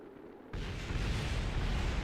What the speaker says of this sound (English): There's so many explosions. Oh, those sound bad.